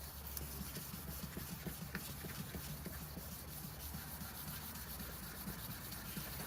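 A plastic headlamp lens being sanded by hand with sandpaper, giving a steady, soft rubbing scrape of continuous back-and-forth strokes, close and fairly quiet, with no talking.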